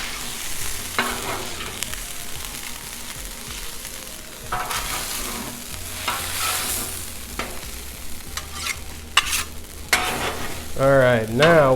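Noodles warming on a Blackstone griddle, a low crackling sizzle broken by repeated metal spatula scrapes and taps, with a brief voice near the end.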